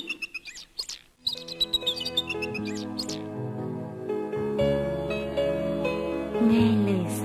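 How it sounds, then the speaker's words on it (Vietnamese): Birds chirping in a forest in a children's fairy-tale animation, bright repeated tweets up front that soon sit under swelling background music. "có tiếng chim hót réo von"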